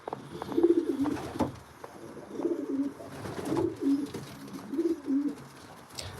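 Pigeons coo repeatedly at close range in a pigeon loft, soft throaty calls rising and falling over faint rustling and flutters.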